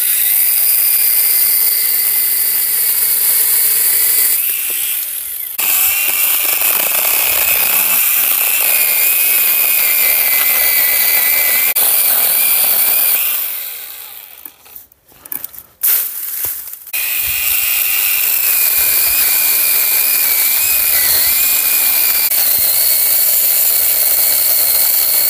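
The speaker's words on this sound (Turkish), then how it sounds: "Testeremiz de güzelce de kesiyor." A cordless pruning saw cuts garden branches with a loud, steady high-pitched motor whine, briefly dropping as it stops and restarts midway, then running on continuously.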